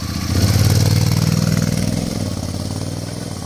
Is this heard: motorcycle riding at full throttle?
yes